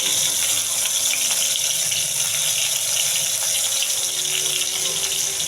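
Water running steadily into a pan of oil with black cumin and green chilies while cooking pabda fish, a loud continuous gushing pour with no break and no voices.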